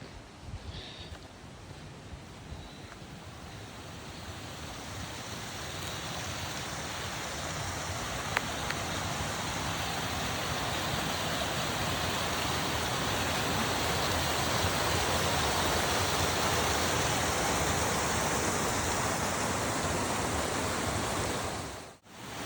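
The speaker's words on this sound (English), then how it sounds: "The roar of the river, plus the rush of a creek." A river roars alongside a rushing creek in an Olympic forest, forming a steady, full-bodied wash of water noise that holds constant and close for the whole stretch, with no voices.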